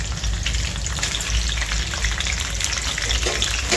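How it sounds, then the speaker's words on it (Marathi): A spice paste with onion, tomato and curry leaves frying in hot oil, a dense, steady sizzle that carries on loudly and continuously with no talk over it. "थोडं आपण ह्याच्यामध्ये तेलामध्ये ह्याला आपण थोडंसं"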